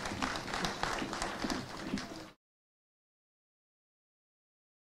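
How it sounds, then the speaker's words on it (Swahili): Audience applause at a swearing-in ceremony presided over by a governor, a dense wash of clapping for about two seconds that cuts off abruptly into silence. "Tuwape makofi mazuri"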